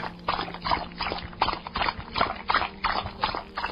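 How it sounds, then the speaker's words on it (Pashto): Regular rhythmic hoofbeats of a horse, a steady series of thudding clops repeating about twice per second, fairly close and continuous. "دا خو د اس د قدمونو آواز دی"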